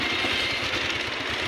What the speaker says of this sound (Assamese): এতিয়া বাইক ঘূৰাম।